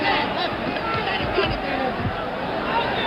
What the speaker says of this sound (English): Crowd roars again as Young continues, unafraid, unmarked for that matter.